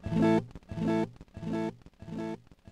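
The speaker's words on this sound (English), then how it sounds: "you can hear there's a lot of fuzz in there, a lot of distortion coming through" Guitar played through a cheap AliExpress reverb/echo/delay circuit board set to maximum delay time and mix, with heavy fuzzy distortion: four loud, evenly spaced struck-chord bursts, each ringing briefly before the next repeat.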